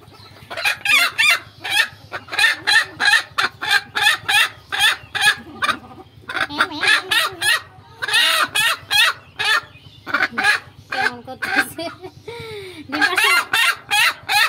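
Chickens in a backyard coop cluck loudly and close by in rapid, repeated bursts, with a few drawn-out calls between them and little pause across the whole stretch.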